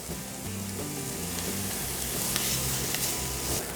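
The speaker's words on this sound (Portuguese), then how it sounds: "Agora só vou ficar mexendo um pouco para essa cebola refogar até que ela fique bem murcha" Chopped onion sautéing in a pan, a dense close sizzle with soft stirring scrapes as it is moved around, steady throughout and without speech.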